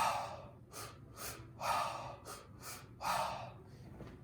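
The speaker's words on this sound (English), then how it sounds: "This can be done through nose breathing." Someone demonstrates a three-part shamanic breath, drawing a series of audible, close inhales and exhales through the nose in a broken rhythm, some short and sniffing, others longer and rushing, with no speech.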